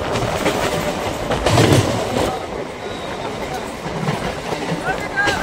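Express passenger train running on rails from Krishnanagar toward Azimganj, heard from on board as a steady rumble with rail clatter, with a voice talking over it.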